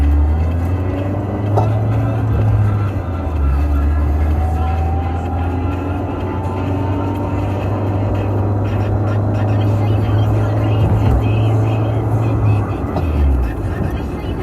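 A stock Honda CRX Si from about 1989 drives along with a steady, loud engine drone and road rumble, while people talk over it.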